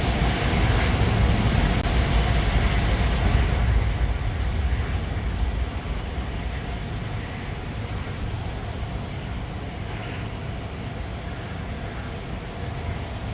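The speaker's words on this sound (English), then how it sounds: "So the plane lands. Putin's plane lands." Putin's airplane landing at the Trump-Putin summit, a loud, steady broadband jet roar that fades slightly as the aircraft rolls in, heard alone without talk.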